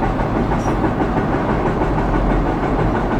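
A loud, close freight train powered by two Norfolk Southern SD40-2 diesels runs by fast, with steady deep rumble and faint rhythmic rail clatter, no voices.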